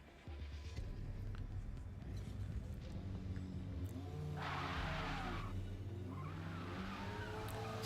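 A race car in a racing video game laps Watkins Glen, its engine droning loudly and steadily with shifting pitch, and tires squeal in two bursts of skidding partway through.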